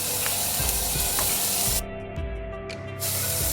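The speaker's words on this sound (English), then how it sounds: "put some oil on the pan, and then get grilling your onions" Onions grilling in oil in a pan over medium heat, a loud close sizzle and hissing spatter, with a sudden drop in the upper hiss partway through before it surges again.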